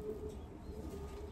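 Racing pigeons cooing softly in a loft, low faint murmuring coos with a brief chirp near the end, no talking.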